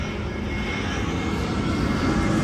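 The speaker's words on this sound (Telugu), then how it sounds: "ఇంకో ఫ్లైట్ అది" An airplane flies overhead, a faint, steady, broad engine drone that holds evenly throughout without talk.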